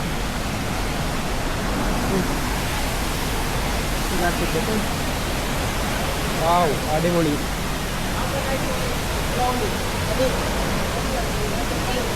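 Dense, continuous roar of Kawasan Falls pouring water, loud and close, with a person exclaiming briefly partway through over the steady rush.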